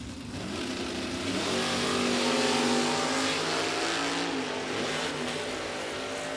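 A 1979 Camaro drag race car launches at a Galot drag strip event, giving a loud, sustained engine roar that builds and holds for several seconds with steady crowd-level background noise.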